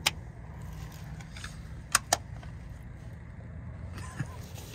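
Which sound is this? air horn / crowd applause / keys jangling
keys jangling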